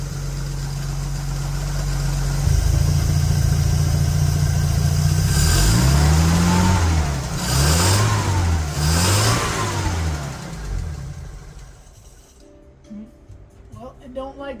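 A Dodge engine fitted with a Stromberg BXVES-3 carburettor warms up, idling with a low steady rumble that rises into a few rhythmic revs midway before settling and fading, while a person talks over it.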